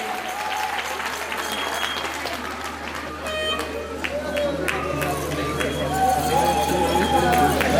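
Audience applause and cheering at a Shrimad Bhagavat Katha religious gathering at Baba Hari Shah Darbar, a steady, dense wash of clapping that swells toward the end, with background voices mixed in.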